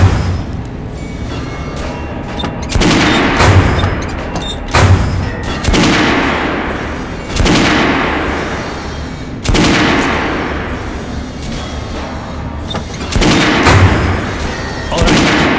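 Weapon fire on a shooting range in Metro: Last Light, loud close shots and bursts recurring every second or two, each with a booming echoing tail that fades before the next volley.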